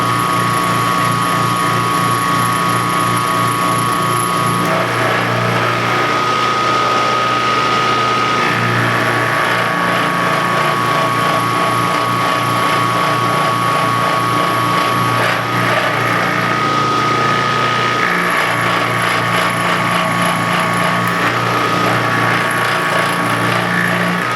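Milling machine cutting steel with a 3/4 inch end mill at a heavy depth of cut, a steady loud machining whine with constant tonal hum, continuous throughout with no voices.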